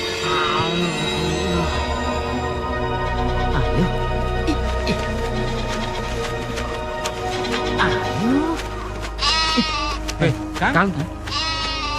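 A goat bleats repeatedly, loud and close, in wavering cries that come and go over a busy background with music, and people talk throughout.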